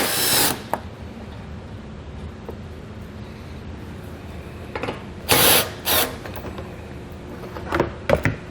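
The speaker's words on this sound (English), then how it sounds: "We're going to take a 5/16 socket. We're going to have a bolt here and a bolt on the other side." Power tool with a 5/16 socket spinning out bolts from a panel on a 2018 Jeep JL Wrangler, heard as a few short whirring bursts separated by quiet handling noise, with no talking.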